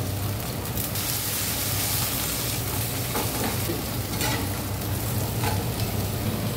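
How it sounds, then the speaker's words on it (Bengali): Eggplant pieces fry in hot oil with nigella seeds and green chilies, a dense steady sizzle throughout, with a few sharper crackles and a faint stir partway through. "দিয়ে দিচ্ছি বেগুন। বেগুন কটা ভালো করে ভাজা ভাজা হয়ে যাবে"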